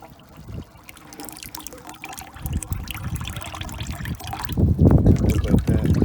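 Old coolant draining from a 7.3 Ford Powerstroke diesel, a liquid trickle that grows into a heavier splashing pour toward the end, heard up close with wind noise.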